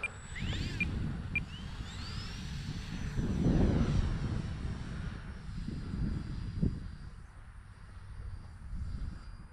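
Timber RC model airplane flying overhead, a faint propeller-motor whine that rises and falls as it passes, swelling in the middle amid outdoor ambience.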